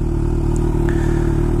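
Kawasaki Ninja H2 motorcycle engine running loud and steady up close, a dense low rumble with a brief sharper rise partway through, no voices.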